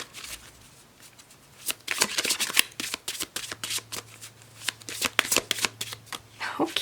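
Tarot cards from the Magical Times Empowerment deck are shuffled repeatedly, giving bursts of riffling, flapping card noise in an irregular rhythm, close and fairly loud, over a faint steady hum.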